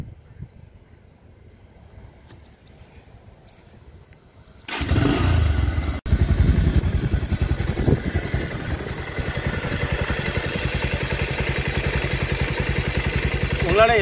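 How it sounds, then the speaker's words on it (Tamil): A Bajaj Pulsar 150 Twin Disc motorcycle with about 18,000 km is started after a quiet pause, then settles into a loud, even idle heard up close. "நான் வண்டி ஆன் பண்ணி இப்போ நான் இன்ஜினை ஸ்டார்ட் பண்ணுறேன்"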